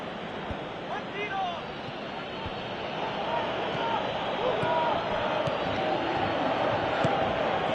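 Stadium crowd noise from a PS4 football video game, a steady broad roar building slightly louder through the clip with faint chants over it.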